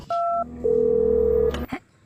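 Telephone dialing tones as a call is placed: a short two-tone beep, a pause, then a long steady single tone, loud and clear with no speech.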